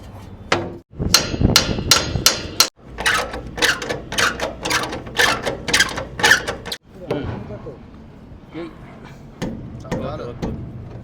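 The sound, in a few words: tightening new bolts on a truck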